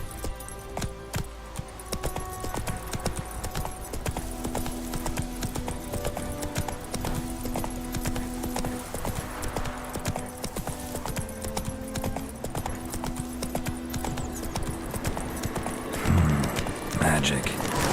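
Roach, the horse in The Witcher 3 video game, galloping, heard as a fast, continuous patter of hooves with jingling tack, close and steady, and a brief whinny-like burst near the end.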